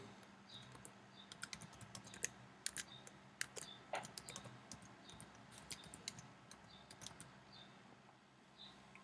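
Typing on a computer keyboard, a steady patter of fairly quiet key clicks in irregular bursts with a few louder taps, heard alone without any talk.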